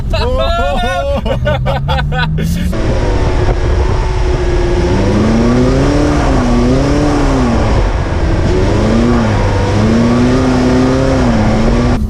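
A McLaren 570S sports car driving on ice, its engine droning loud and steady with rising and falling pitch as the throttle shifts, while people talk throughout over the motor.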